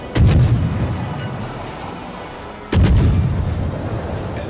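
Two heavy naval gun salvos boom in the World of Warships video game, each a sharp loud blast followed by a rolling rumbling decay, spaced a few seconds apart.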